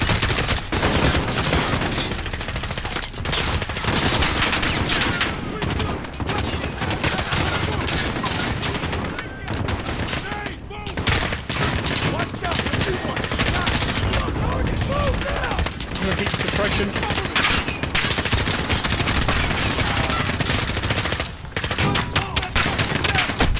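A machine gun nest in Call of Duty: Modern Warfare fires long, dense bursts with scattered rifle shots in a relentless, loud barrage that barely pauses through the whole fight, with only brief gaps between volleys.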